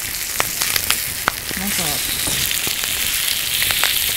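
Food sizzles and fries on a grill at an auto campsite in Wakayama, Japan, a steady crackling hiss with occasional pops and utensil clicks, while someone speaks briefly.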